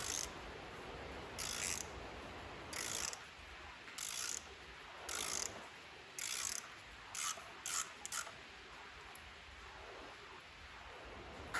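A ratchet wrench turns a manifold bolt on an Allis B tractor, giving bursts of fast clicking, some longer and some short, separated by quiet pauses.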